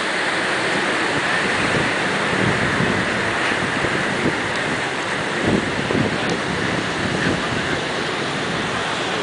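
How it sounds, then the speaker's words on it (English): Ocean waves wash steadily into tidal pools at low tide along Ocean Beach, a continuous close surf rush with wind buffeting the microphone and no clear breaks. "the tide's coming back in"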